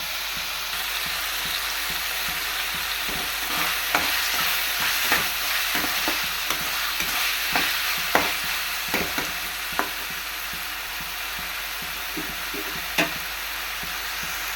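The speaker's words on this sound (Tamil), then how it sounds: "நல்லா பாருங்கள் எப்படி வதங்குதுன்னு நல்லா இந்த மாதிரி வந்து ஃபுல்லாக நல்லா வதங்கணும்" Drumstick (moringa) pods sauté in a pan with a steady close sizzle, punctuated by irregular sharp taps and scrapes of a spoon stirring against the metal.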